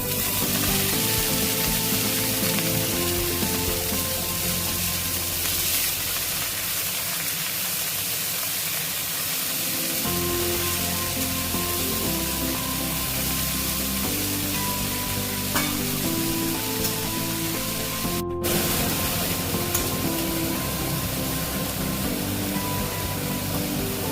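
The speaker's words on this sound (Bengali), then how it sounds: "রসুনটা ভাজা হয়ে গেছে, এবার আমি কুচিয়ে রাখা শাকটা দিয়ে দিলাম" Chopped water spinach fries in a pan with garlic, a loud, continuous close-up sizzle that holds steady throughout, with a faint tonal hum running underneath and no talking.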